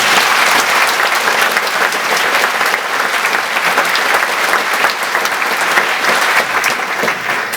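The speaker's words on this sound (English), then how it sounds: "I'd just like to give her a round of applause" Audience applause at a live disclosure project event at SMC, honoring an assistant editor: dense, steady clapping from a sizable crowd, loud and continuous throughout with no voices over it.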